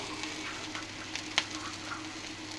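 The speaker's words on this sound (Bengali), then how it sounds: "সুন্দর করে লাল লাল করে ভাজা হয়ে গেল" Something frying in a pan until red-brown gives a steady, soft sizzling hiss with one sharp little pop partway through, and no voices.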